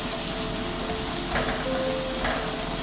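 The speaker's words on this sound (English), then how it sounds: "When frying your yam ball, make sure you use deep frying." Yam balls and vegetables deep frying in plenty of groundnut or vegetable oil, giving a steady close sizzle and bubbling hiss with faint clinks, no voices.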